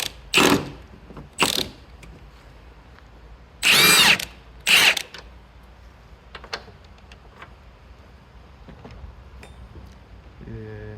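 Ratchet wrench turning a 14 mm nut on a 2019 Toyota Camry strut, heard as four short bursts of ratcheting clicks in the first five seconds, followed by quieter faint clicks and handling noise.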